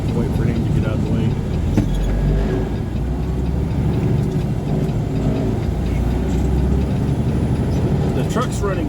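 A truck engine runs steadily throughout with a constant low rumble and idling drone, close and loud, on a road with traffic around, a voice talking intermittently over the engine noise.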